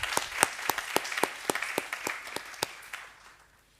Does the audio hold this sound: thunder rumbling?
no